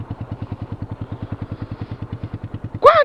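A Yamaha Fazer 250 motorcycle fitted with a diffuser exhaust idles with a loud, rapid, even pulsing thump, and a voice breaks in near the end.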